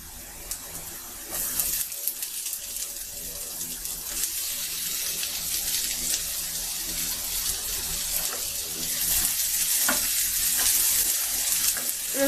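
Garlic and onion frying in a pan, giving a steady broadband sizzle that grows slightly louder over time, with occasional clinks of stirring.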